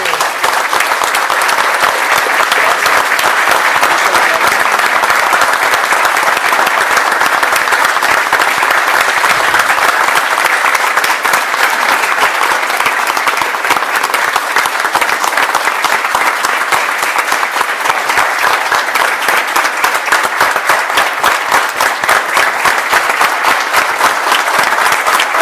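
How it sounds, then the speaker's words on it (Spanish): A studio audience on a Spanish-language talk show applauds a woman, dense sustained clapping from many hands, loud and even for a long stretch without speech. "Denle un aplauso a esta mujer."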